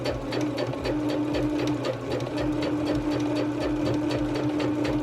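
A sewing machine fitted with a twin needle hems knit fabric, running in a steady, rapid, continuous mechanical whir up close with no pauses.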